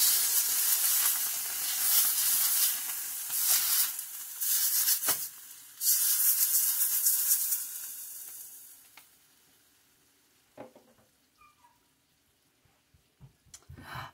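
Candy cane sugar syrup at a soft rolling boil near 285 degrees gives a steady close hiss and sizzle that fades partway through, leaving quiet spells broken by a few light clinks.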